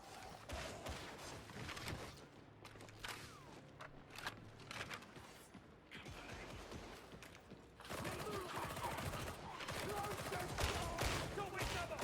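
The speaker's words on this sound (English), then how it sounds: "hip firing is not very accurate with this gun" Rapid gunfire from a weapon being hip-fired in the Warhammer 40k Darktide shooter, dense bursts and clatter filling the mix, with game voices shouting over the battle noise.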